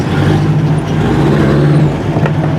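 Chrysler Firepower engine cold starting in snowy weather, a loud rough continuous rumble with a steady low hum throughout, close up.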